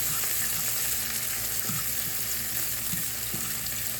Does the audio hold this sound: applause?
no